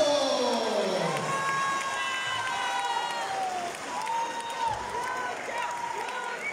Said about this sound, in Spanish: Recibimos con ese fuerte aplauso